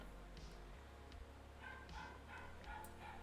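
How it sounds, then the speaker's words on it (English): A pet dog barks and whimpers faintly in the background, a few short yips and whines spread over a few seconds beneath steady room noise. "I'm sorry about my dog. God, she's going crazy."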